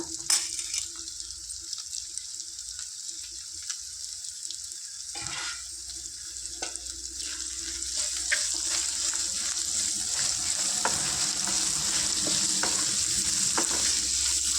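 Potatoes, about two hundred grams, sizzle and fry steadily in a pan for a potato tomato curry, a continuous crackling hiss that grows louder through the second half, with no talking.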